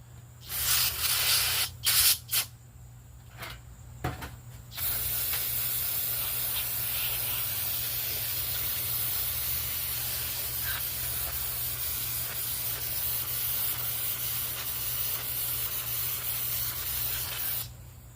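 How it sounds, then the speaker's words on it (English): Aerosol can sprayed onto the screws of a 1990s Snapper 20-inch push mower: several short bursts, then one long continuous hiss held close up. "Spray all these screws so I can get to it."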